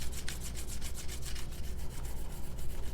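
Nano Hone Groomer scraped back and forth across a diamond whetstone surface, a steady dry rubbing and scratching with regular strokes, close and continuous for the whole stretch.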